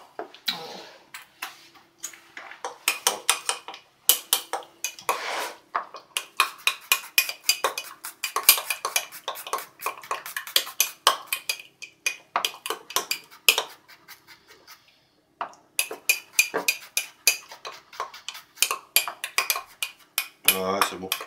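Garlic mixture stirred in a pan while preparing wild mushroom cannelloni, a steady run of clinking, scraping utensil strikes against metal in quick irregular bursts, with short pauses and brief voices.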